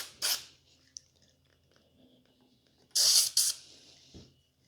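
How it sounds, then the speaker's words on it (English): Short, close bursts of aerosol cleaner sprayed along a Glock 48 Gen 5 pistol slide: one quick hiss, a pause, then two longer sprays back to back, with faint handling noises between. "we're going to make sure that we spray alongside here"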